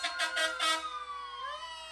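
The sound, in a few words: fire truck horns and sirens in a Fourth of July parade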